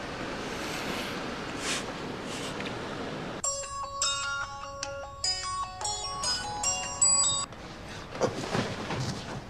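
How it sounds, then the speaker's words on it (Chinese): A phone ringtone sounds for an incoming call, a bright repeating electronic melody of short beeping tones lasting several seconds over quiet background noise. "小白，你终于有时间给我打电话了"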